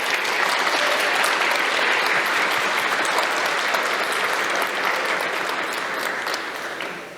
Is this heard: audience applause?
yes